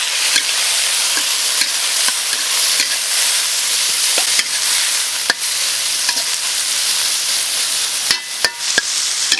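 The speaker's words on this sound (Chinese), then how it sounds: "翠绿的这个笋下锅炒，然后煸炒香啊" Bamboo shoots are stir-fried in a wok with salt and soy sauce, a continuous loud sizzle broken by sharp clacks of a spatula scraping and striking the pan at irregular intervals.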